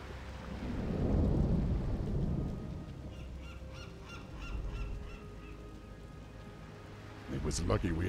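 Thunder rumbles low and heavy during a storm at sea in Warcraft 3: Frozen Throne, with rain-like hiss and a sharp crack near the end, mixed under some voice.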